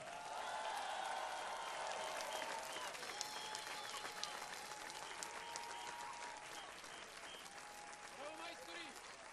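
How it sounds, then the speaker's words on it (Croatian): Sustained audience applause at a welcome reception for Serbian Paralympic athletes in 2016, steady clapping from a crowd that carries on loudly throughout, with a speaker's voice heard faintly over it. "Molim vas jedan veliki aplauz"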